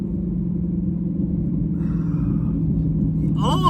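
Dodge Demon 170 idling with a deep, steady low rumble, close and constant throughout, with a faint higher whine or voice-like sound briefly near the end.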